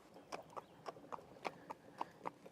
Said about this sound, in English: Rowley right here is the best marathon horse in the United States of America at this time.